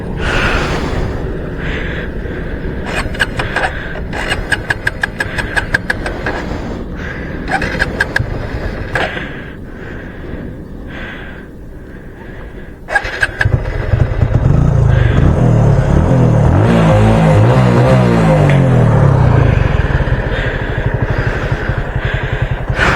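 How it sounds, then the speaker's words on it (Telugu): A motorcycle that has been struggling to start catches and runs on a roadside, its engine note rising into a loud, steady rumble after intermittent clattering and cranking noises. "అమ్మా బండి స్టార్ట్ అవుతలేదు అనుకున్నాను నేను"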